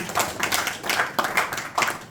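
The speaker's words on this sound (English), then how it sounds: "Please give a round of applause to this." A small group claps in a brief, sparse round of applause at a Bhagavad Gita study gathering, uneven claps bunched into a few bursts, fairly close and moderately loud.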